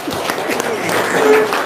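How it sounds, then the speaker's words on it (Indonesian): Brief burst of audience applause at an Indonesian religious talk, dense, steady clapping from a crowd heard close for under two seconds with a faint voice mixed in. "Tepuk tangan dong."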